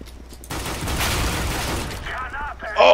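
Gunfire in Counter-Strike: Global Offensive, a loud rapid burst of automatic shots lasting about a second and a half, followed by sharper in-game effects near the end.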